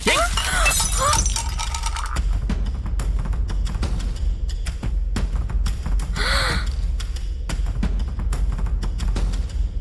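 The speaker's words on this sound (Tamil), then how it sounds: "தெரியாம கைப்பட்டு கிளாஸ் உடைஞ்சிச்சே" A drinking glass, accidentally knocked by hand in a Tamil TV drama scene, shatters with a bright crash near the start, over a steady bed of background music and sound.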